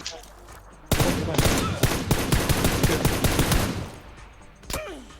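PUBG gunfire, dense rapid automatic bursts that start abruptly and run loud for about three seconds, followed by a single separate shot, with a voice talking briefly.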